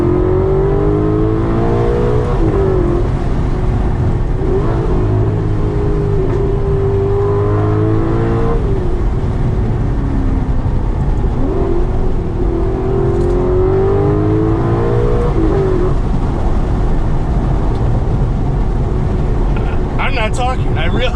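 An Alfa Romeo 8C Competizione engine drones and climbs in pitch through repeated gear shifts, accelerating in waves, loud and close, with a voice talking over it.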